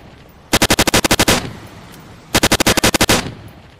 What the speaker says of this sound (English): Only 2 out of 30 shots hit the target.